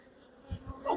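Honey bees buzz around an open hive box in a garden apiary, short close passes flaring up over a quiet background, growing louder toward the end.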